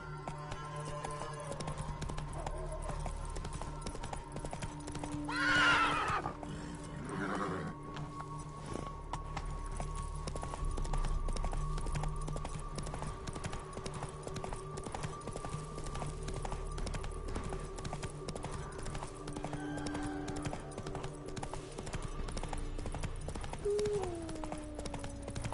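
Horse hooves clip-clop at a steady gallop in the video game Witcher 3, a continuous rhythmic patter at moderate volume with brief higher game sounds over it.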